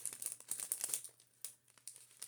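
A small cellophane bag crinkles close up while a key ring is packed inside it, with bursts of bright rustling that fade and then return.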